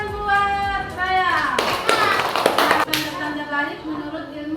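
A classroom of children gives a short burst of clapping for about a second, with young voices chattering before and after it.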